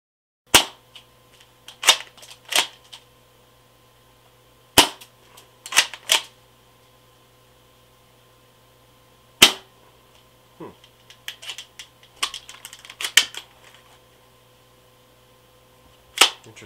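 A 1980s Daisy Model 12 SoftAir shell-ejecting gun fires at a target about 11 and a half feet away: about ten sharp, loud snapping shots at irregular intervals, with softer clicks of the action between them.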